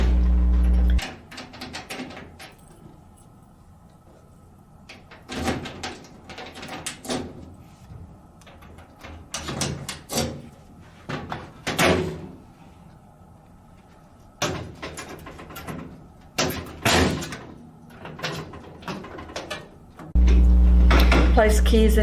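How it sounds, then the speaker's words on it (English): Ballot box doors (rear, main and emergency) are shut and locked at an election voting device, giving a series of sharp metallic clunks, latches and clicks in irregular bursts, close and fairly loud, with quieter handling between them. "Close and lock the rear ballot box door, main ballot box door, and the emergency ballot box door."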